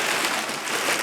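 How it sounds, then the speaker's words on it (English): Light rain falling outdoors while potting soil is mixed, a soft, even hiss of drops on surfaces, steady and close with no talking. "it's starting to rain a little bit"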